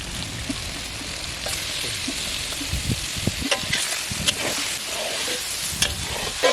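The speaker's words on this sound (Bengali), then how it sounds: "ঠিক তেমনভাবে আমরা কুচে মাছটাকে কষিয়ে নেব" Kuchia eel pieces sautéing in a pan in a village kitchen, with a steady close sizzle and intermittent scraping stirs and small pops throughout.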